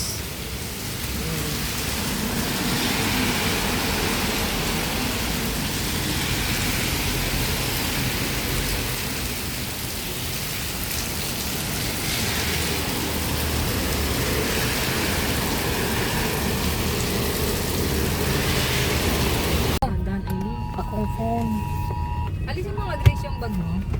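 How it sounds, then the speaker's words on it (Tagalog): Heavy rain pours steadily outside a restaurant in Alfonso, Cavite, a dense continuous roar with faint rumbling underneath, cutting off abruptly near the end to a quieter room. "grabe ang lakas ng ulan"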